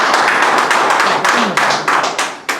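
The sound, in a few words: audience clapping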